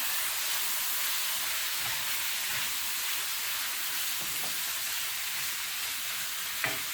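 Minced garlic sizzles steadily in a hot pan, a dense continuous frying hiss with faint stirring scrapes and small pops, close and without voices.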